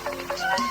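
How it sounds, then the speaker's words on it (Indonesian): Someone strikes a kentongan, a wooden slit drum, in a rapid run of light, hollow knocks that repeat evenly several times within a fraction of a second, fairly close over a faint background hum. "Suara yang dipukul seperti itu suara kentongan"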